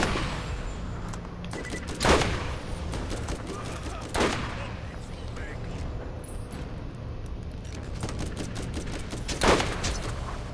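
Gunfire rings out in the Borderlands shooter game, with several sharp bursts standing out over a busy background of continuous combat noise.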